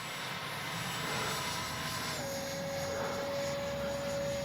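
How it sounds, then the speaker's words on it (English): Freewing 70mm F-35 RC electric ducted-fan jet in flight, a steady distant whine and rushing roar with a tone that drops slightly partway through, faint and continuous without speech. "Great flying F-35."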